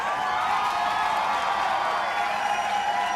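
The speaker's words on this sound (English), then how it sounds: "let's hear a big cheer for that!" A large audience at a 40th anniversary gathering of a wildlife conference in Kamloops cheers and whoops in a broad, sustained roar that stays loud and even from start to finish.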